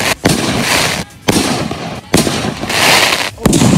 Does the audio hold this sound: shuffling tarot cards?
no